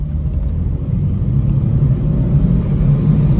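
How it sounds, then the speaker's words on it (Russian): Low, steady engine rumble from a Hyundai Solaris (RB) at full throttle, heard from inside the car as a constant droning hum with no talking. "Газ в пол."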